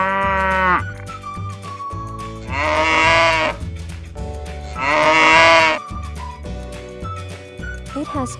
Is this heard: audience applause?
no